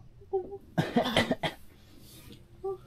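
A person coughs several times in a quick, harsh burst, close to the microphone, with brief voiced sounds before and after.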